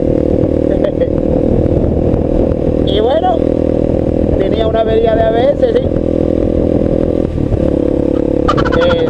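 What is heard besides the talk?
Voge 300 Rally motorcycle engine running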